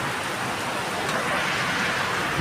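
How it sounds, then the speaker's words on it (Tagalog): Rain pours down outdoors, a dense, steady hiss of drops on surfaces, loud and close, holding an unbroken level from start to end with no voices. "Itong ulan-ulan."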